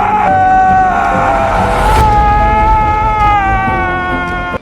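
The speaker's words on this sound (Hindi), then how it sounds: "इसके बाद वो बहुत जोर से चिल्लाता है।" A man screams very loudly in a scene from A Quiet Place (2018), one long, sustained, strained cry that holds for several seconds before cutting off abruptly.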